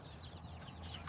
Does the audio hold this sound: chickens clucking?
yes